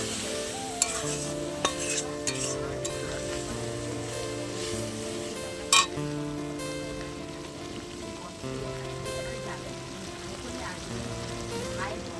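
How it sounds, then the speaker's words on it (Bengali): A ginger-garlic spice paste, loosened with water, cumin, turmeric and chilli powder, fries in a pan while a spatula scrapes and taps; a bubbling sizzle continues under repeated stirring strokes and occasional sharp clinks, with no voices. "কষিয়ে মানে ভাজা মশলাটা ভেজে নিলাম যাতে আদা রসুনের গন্ধটা চলে যায়"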